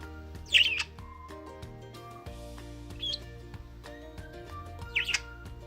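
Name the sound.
pet bird tweeting in the window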